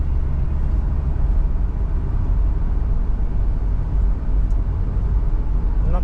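Road traffic heard from inside a car in congested city traffic: a steady, loud, low rumble of tyres and engines with no break, continuous throughout.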